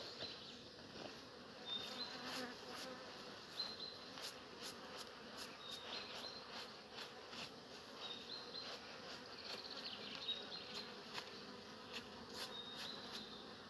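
A steady drone of many honey bees buzzing around a hive during honey harvesting, fairly faint but constant, with no one speaking.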